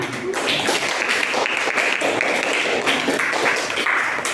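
A classroom of students claps steadily and continuously, a dense patter of many hands with no pauses.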